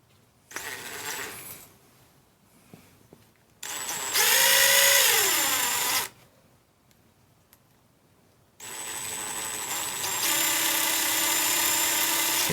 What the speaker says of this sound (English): Put on my impact gun. Okay, and then we'll gun all these in.